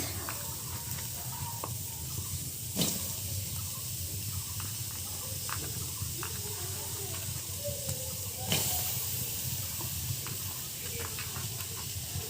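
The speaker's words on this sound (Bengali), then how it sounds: "আমি দিয়ে দিচ্ছি কড়ার ভিতরে পেঁয়াজ আর কাঁচামরিচ" Onion and green chili fry in hot oil in a kadai for a Bengali fish curry, giving a steady, close sizzling hiss that runs without a break, with a couple of brief louder spits.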